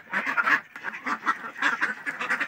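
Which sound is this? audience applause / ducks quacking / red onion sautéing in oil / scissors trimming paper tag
ducks quacking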